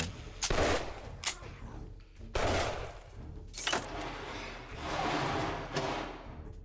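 Gunfire rings out in the zombie-survival game 7 Days To Die: loud, close bursts of rapid shots come in several volleys split by short pauses, with no talking.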